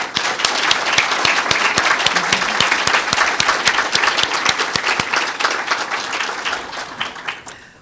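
A large audience at an environmental education awards ceremony applauds the winners, a dense, loud, sustained clapping that holds steady and then tapers off near the end, with no talking.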